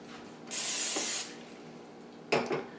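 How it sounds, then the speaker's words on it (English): A short hissing blast of non-stick cooking spray onto a skillet, followed a moment later by a brief clatter of a pan or can. "Spray my skillet with non-stick cooking spray."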